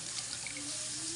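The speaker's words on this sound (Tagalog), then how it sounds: "Ayan, kata nyo, ang tubig." Water running from a tap, a steady faint hiss of flowing water with no break, alone and fairly quiet.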